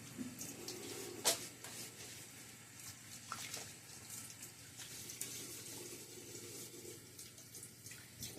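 Water runs from a bathroom tap into the sink during a wet shave, a steady hiss with a few sharper splashes and clinks, heard up close with no talk.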